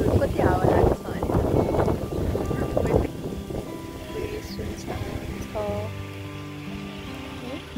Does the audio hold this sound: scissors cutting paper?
no